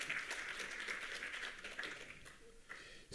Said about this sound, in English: On vous applaudit une nouvelle fois